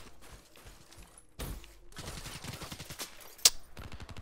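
An AK-style rifle fires in Black Ops 3, a short burst of sharp shots building to one loud crack near the end amid game noise.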